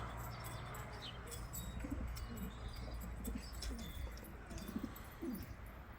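Turkish racing pigeons, one large male chasing another, give low repeated coos over a steady low background hum, with soft wing flutters and faint chirps across the scene.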